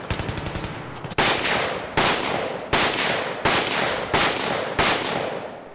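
Steyr AUG bullpup rifle from Battlefield 3 in close quarters, fired in six loud, separate bursts of rapid automatic fire, each cracking sharply and trailing into a decaying reverberant tail, with no talk.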